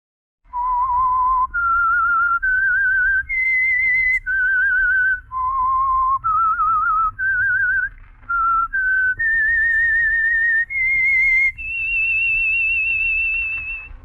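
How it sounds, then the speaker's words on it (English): A clear, loud whistled radio show theme of sustained, slightly wavering notes stepping up and down, ending on a long held high tone over a low hum, from a 1948 broadcast of The Whistler. "That whistle is your signal for the signal oil program, The Whistler"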